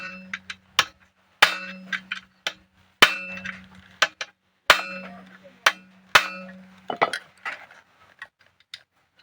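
A small Honda GX35 engine with a stuck exhaust valve is tapped to knock a tight metal part loose. About a dozen sharp, close metallic clinks come at irregular intervals, some briefly ringing, with faint talk between them.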